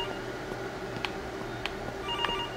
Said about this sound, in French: J'avais pas entendu depuis tout à l'heure le téléphone.